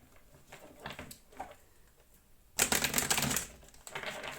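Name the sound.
shuffling tarot cards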